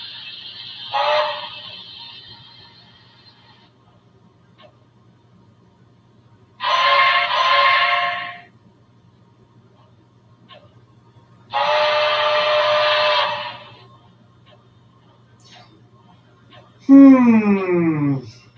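A train whistle blows in three sustained, loud blasts separated by quiet gaps, over a steady low hum. A short rising pitch sweep follows right at the end.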